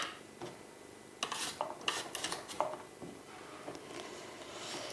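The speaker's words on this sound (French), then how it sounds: "j'ai la possibilité d'utiliser une mandoline. Je peux choisir de faire des petites lamelles." Vegetables sliced on a mandoline give a quick run of soft scraping swipes and light clatters up close, quiet and irregular, with no speech.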